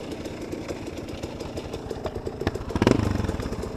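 KTM 250 SX dirt bike engines running on a trail, a steady rapid two-stroke putter that grows louder and rougher as a second bike revs up near the end.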